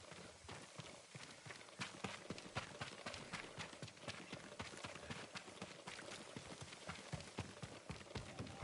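Horse hooves gallop in a steady, dense run from the Ghost of Tsushima video game, the rapid clip-clop continuous and fairly loud over busy game ambience, with no speech.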